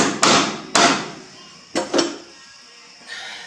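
Loud, close hammer blows tap an engine part into place during a John Deere 5065E tractor engine rebuild, four sharp metallic knocks in two pairs with short pauses between.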